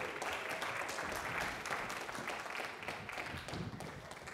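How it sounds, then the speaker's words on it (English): A crowd applauds volunteers coming up on stage for a magic demonstration during a teaching talk, faint, distant clapping held steady for a few seconds. "Let's give them a big round of applause."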